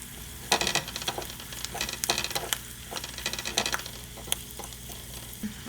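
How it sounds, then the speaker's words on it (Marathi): Turmeric-laced spice tempering for a Gopalkala dish sizzles steadily in hot oil, with a dense crackling hiss and scattered sharp pops and clinks of stirring throughout, no voices. "आता आपली फोडणी तयार झाली आहे"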